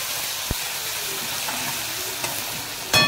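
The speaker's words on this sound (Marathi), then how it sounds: "आता मिरचीचा खर्डा टाकूया तेलात आणि मिरचीचा खर्डा तेलात फ्राय करून घ्यायचा" Green chilli paste frying in hot oil gives a steady close sizzle and hiss with a few soft clicks of stirring, and no talking.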